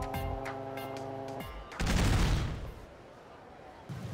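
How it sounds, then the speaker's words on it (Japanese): A kick-triggered explosion in the video game Like a Dragon: Infinite Wealth, a loud sudden boom that swells and fades after a stretch of game music. "蹴りを加えると爆発すると"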